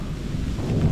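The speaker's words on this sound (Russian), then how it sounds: "Гром, молния." Thunder rumbles low and heavy during a rainstorm in open mountain terrain, a dull rolling roar that builds toward the end over the hiss of rain.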